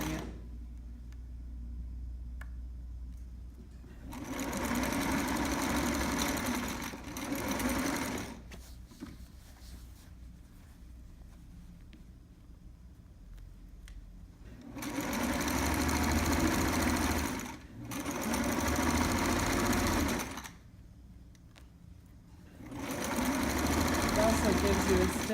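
A sewing machine stitches the lining of a trapper hat in several bursts of steady mechanical whirring, a few seconds each, with quieter pauses between them.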